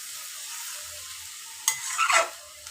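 Small fish chorchori being stirred in a pan, a soft steady sizzle underneath and a burst of scraping stirring strokes near the end, close and fairly loud.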